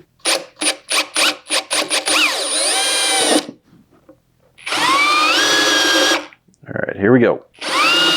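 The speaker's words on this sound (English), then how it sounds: "Let's do the same on this side and get this part over and done with" A power drill bores holes for a diesel heater mount on a rooftop tent setup, starting with a string of short trigger bursts and then running in long whining spells that pitch up and down. Someone speaks briefly between runs.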